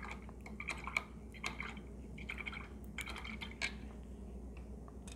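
A paintbrush is swished and tapped in a water jar while rinsing during acrylic painting, giving soft splashes, drips and several light glassy clinks over quiet background hum.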